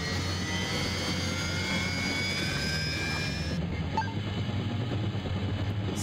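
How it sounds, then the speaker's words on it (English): In the video game SimCopter, a helicopter's engine drones with a steady turbine whine and rotor rumble, continuous and moderately loud, with no voices. "You have 5 seconds to get in my helicopter, and I am leaving."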